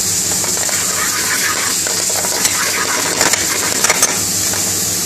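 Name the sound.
chopping prawns into the curry base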